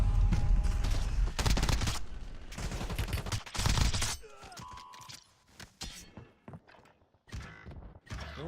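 Rapid SMG bursts in Warzone rattle loud and close in several long volleys, followed by quieter clicks, mechanical sounds and scattered shots, with a voice talking at times.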